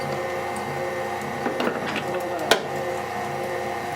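Meat grinder grinding deer meat for Italian sausage, a steady whirring motor with a few knocks and one sharp clunk, at moderate level.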